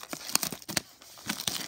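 A sealed 2011 Gridiron Gear football card hobby box is torn open by hand without scissors, giving a quick series of close, sharp rips and crinkles of cardboard and plastic wrap.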